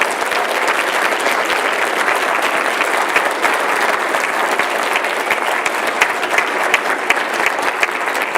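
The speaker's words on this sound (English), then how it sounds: "And a round of applause for our panellists, please." A debate audience applauds the panellists with dense, sustained clapping that stays loud and even for about eight seconds, with no talk over it.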